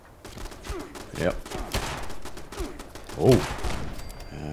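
Gunfire in the video game Fallout 76 comes as short, rapid bursts of shots, one around the middle and a louder volley later, over a busy game soundscape.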